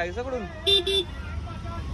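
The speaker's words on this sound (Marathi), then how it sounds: "किती हॉर्न मारतात लोक बघ" Car horns toot twice in short, sharp bursts on a crowded street near a local train station, busy with rickshaws, over steady traffic rumble while someone talks throughout.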